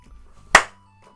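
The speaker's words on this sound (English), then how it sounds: "I love the clap at the beginning." A single sharp hand clap opens a song in the game Doki Doki Literature Club Plus. It is loud and close, stands alone, and fades quickly over a faint steady hum.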